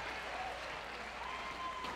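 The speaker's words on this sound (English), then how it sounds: "That has got the crowd going again." Dense, steady applause from a squash crowd after a spectacular shot, a continuous wash of clapping heard from a distance and holding even throughout.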